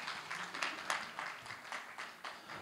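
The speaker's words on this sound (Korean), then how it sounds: "여러분 따뜻한 박수로 맞이해 주시면 감사하겠습니다" Faint, thin applause in a hall at a Korean disability-employment results-sharing event, greeting the next presenter: a few soft, loosely rhythmic bursts of clapping over a quiet room.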